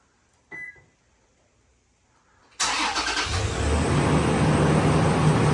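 Toyota 4Runner engine starting by remote start: a brief click, a quiet pause, then the engine cranks and catches into a loud, steady idle that holds to the end.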